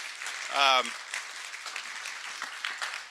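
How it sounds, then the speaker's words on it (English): An audience applauds at the end of a talk, a soft, steady wash of clapping at low level, with a brief spoken voice near the start. "Again, thank you for the applause."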